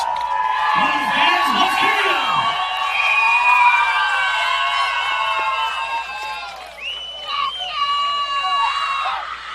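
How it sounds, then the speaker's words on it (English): A big crowd cheers, screams and whoops at an 8-man high school football championship game, loud and sustained, with high shrieks and shouts layered over a roaring mass of voices throughout. "Good crowd here at CY Sports, and they're making themselves heard."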